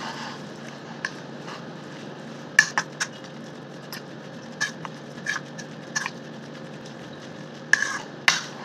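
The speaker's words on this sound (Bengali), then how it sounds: "আর এটাকে আগে ভালো করে নাড়িয়ে নেব।" Food is stirred in a pan over a soft, low sizzle, with scattered scraping clicks from the spoon against the metal. The scrapes come in small irregular bursts, and no one speaks.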